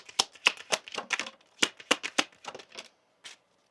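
Kipper oracle cards being shuffled by hand, a series of crisp riffling bursts and taps at an uneven pace, close and clear, fading to a final short flick with no talk over it.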